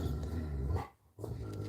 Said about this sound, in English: Now he's on the barking part.